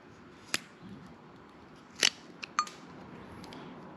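An old rubber sway bar bushing being cut down the middle in a workshop, a few sharp close snips and cracks spaced across a quiet background.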